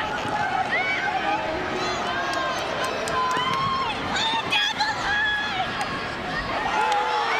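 A large stadium crowd at a women's college soccer match, North Carolina against Washington State at the NCAA College Cup, roars and shouts steadily throughout, rising in bursts as fans appeal for a handball.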